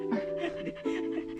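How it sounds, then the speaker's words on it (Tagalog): A dog pants steadily in rapid, breathy bursts, close by, with a brief whimpery tone mixed in during a tiring outdoor scouting trek. "Kasama po kaming aso."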